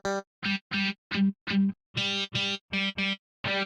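Korg Wavestate synthesizer with a distortion effect: a series of short, buzzy, harmonically rich notes played in a choppy rhythm, each cut off sharply, loud and close, without voices.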